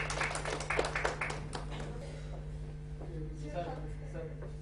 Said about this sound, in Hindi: जोरदार ताली के साथ उनका स्वागत।